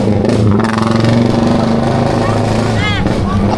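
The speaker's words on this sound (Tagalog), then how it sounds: "Akala ko bawal na yung mga ganun tambutso. Bakit may mga ganun pa rin?" A motorcycle with a loud aftermarket exhaust drones close by in a steady, rumbling roar, with people talking over it.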